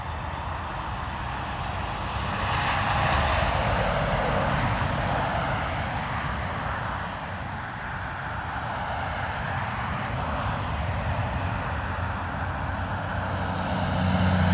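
A KLM jet on final approach to runway 28 left at Dublin Airport in early-morning crosswind conditions gives a steady, broad engine roar that swells slightly and holds at moderate distance, with no talk over it.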